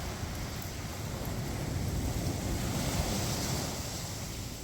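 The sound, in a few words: waves lapping at Iceberg Beach, Iceland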